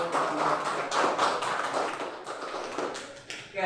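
A classroom group in an Indonesian school claps together after a closing greeting, a dense burst of applause that stays steady for a few seconds, then thins toward the end.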